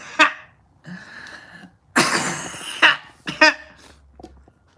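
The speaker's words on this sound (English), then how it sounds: "Oh man, I made myself cough on that one." A person coughing in several short, harsh bursts spaced across a few seconds, close and fairly loud, with quiet breathing between them.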